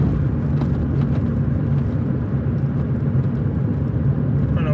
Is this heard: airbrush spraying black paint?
no